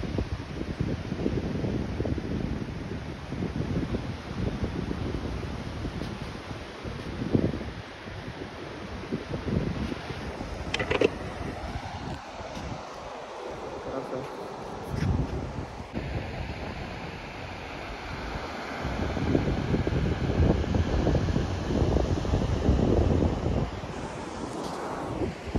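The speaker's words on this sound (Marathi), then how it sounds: "लाटा खूप मोठ्या आहेत." Large sea waves roll and crash onto an empty beach at Ganpatipule on the Konkan coast, a steady loud roar of surf with surges and gusts of wind buffeting the microphone.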